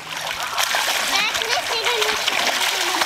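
People swim and splash in a pool, with close, bright splashes and churning water throughout while children talk and shout over it.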